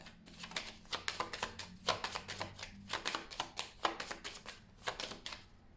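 A tarot deck is shuffled by hand at close range, with a rapid, fairly quiet run of crisp card riffles and flicks continuing throughout in short repeated bursts.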